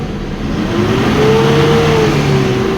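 Diesel engine of a 2010 Mitsubishi Strada with the 4M41 turbo, revved up from idle, rising to a steady high roar with a clear climbing and falling tone, loud and close, no talking.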